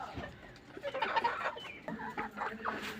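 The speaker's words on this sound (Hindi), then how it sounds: "वो मुर्गा फंस गया है" A trapped rooster on a poultry farm gives a series of agitated clucks, close and fairly quiet, in uneven bursts over a soft background.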